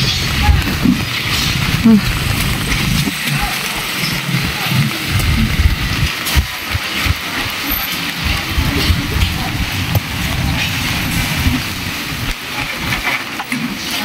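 Heavy rain pours steadily onto tarpaulins outdoors, a dense continuous wash with low rumbling underneath, loud and close throughout, while a person talks over it.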